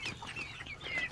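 Poultry chickens make soft, faint clucks and chirps while being fed, a few short calls scattered across a quiet moment.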